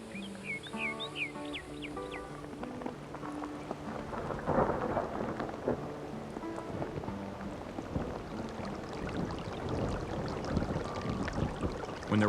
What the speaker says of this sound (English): When the rains finally come to this arid land, they're a welcome relief for the desert creatures.